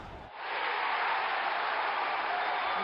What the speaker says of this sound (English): Crowd is enjoying every bit of this.